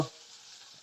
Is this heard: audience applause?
no